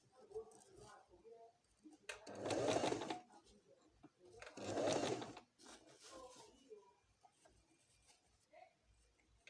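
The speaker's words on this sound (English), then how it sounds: "Same way, I'll be sewing it through." A sewing machine stitches through pleated ruffle panels of a mermaid dress flounce in two short bursts, close and fairly loud, separated by quieter handling sounds and soft rustling of fabric.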